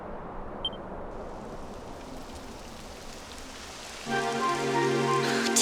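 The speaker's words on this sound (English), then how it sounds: "Typical. It would have to go and start raining, wouldn't it?" Rain begins falling in the video game Dragon Quest XI: a steady hiss of rainfall that suddenly swells louder partway through, joined by layered tonal game music, with no speech.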